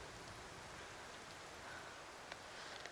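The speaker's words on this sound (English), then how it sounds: "Wait out the rain for a second if I can." Steady rain in the video game Cairn, a soft, even hiss of falling water that fills the whole moment at low volume with no break.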